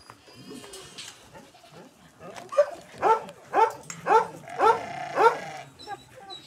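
Goats at an animal shelter bleat repeatedly, about six loud calls in a steady rhythm, with softer animal noises and faint background sounds before them.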